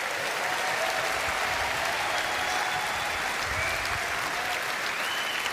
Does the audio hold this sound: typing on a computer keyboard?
no